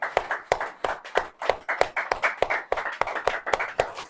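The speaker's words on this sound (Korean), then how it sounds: "자, 손바닥 박수." A congregation claps their palms together in a steady, fast rhythm, roughly two or three sharp claps per second, loud and close, with a faint murmur underneath.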